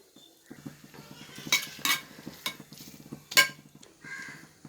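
A metal lid is set onto a pot of prawn biryani on a stove, giving several close, bright clanks and scrapes of metal on metal over a low hum, with no talk.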